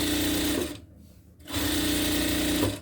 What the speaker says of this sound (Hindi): सबसे पहले आप नीचे में एक सिलाई लगा लीजिए